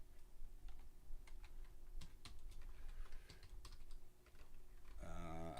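Fast typing on a computer keyboard, a quiet run of close, irregular clicking keystrokes that ends in a brief brighter rustle.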